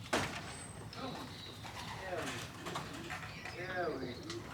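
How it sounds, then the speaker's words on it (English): Pigeons coo close by in a loft, with soft, repeated throaty calls rising and falling over someone talking and steady background hiss. "He's paired to a John Arden Luella Pigeon World hen"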